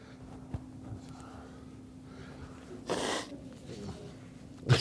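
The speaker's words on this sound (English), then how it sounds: "I'm going to blow my nose." A man blows his nose once in a short, breathy burst midway through, after a faint snort earlier, in a quiet room with low background hum.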